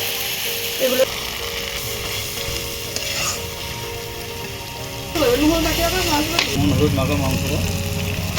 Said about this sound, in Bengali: মাংসটা খুব ভালো করে কষা হয়ে গিয়েছে যে তেল ছেড়ে দিয়েছে একদম